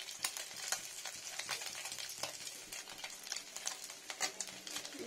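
Fish fries in a pan over rising heat, a bright, steady sizzle with crackling pops and occasional stirring scrapes, close and fairly quiet, with no voices.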